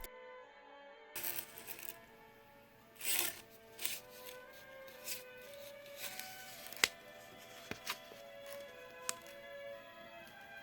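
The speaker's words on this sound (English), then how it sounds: "So I use this contact paper just like I did on the flooring." Clear contact paper being handled for a fairy treehouse dollhouse diorama, with crinkling, rubbing and sharp crackling bursts and a few distinct ticks throughout, close and moderately loud with no talking.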